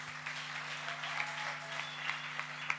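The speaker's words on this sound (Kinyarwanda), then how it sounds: "Mumpera amashyi." Applause from a live theater audience, a steady wash of many hands clapping close and fairly loud for the whole stretch, with a few sharper individual claps standing out near the end.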